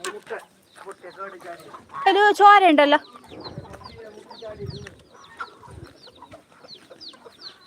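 Chickens and chicks cluck around a farmyard in short, scattered calls, with one louder call partway through and people talking nearby.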